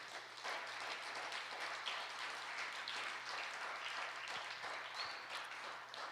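A church congregation applauds to acclaim Jesus Christ during a sermon, steady sustained clapping from a crowd heard at a moderate distance, continuous for several seconds with no talk over it.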